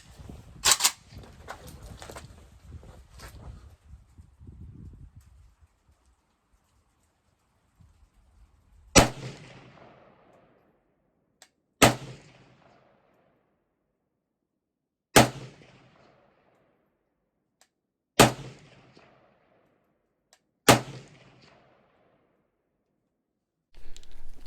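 Zastava ZPAP M70 rifle firing outdoors, five loud, evenly spaced single shots with brief echoing decay after an early cluster of sharper cracks and a quiet stretch.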